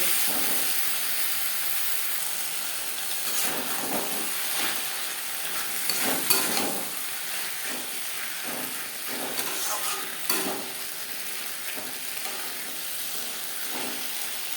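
Potato pieces stir-fried with spices in a pan for puti fish curry give a steady close sizzle, with soft scraping stirs recurring every second or two and no talking.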